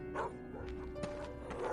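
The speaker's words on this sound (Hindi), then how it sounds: "कुत्ते उस आवाज़ को सुनकर बेतहाशा भौंकी जा रहे थे।" Dogs bark and yelp in an animated horror story set near a graveyard at night, a short burst of quiet, choppy barks under an eerie tonal background.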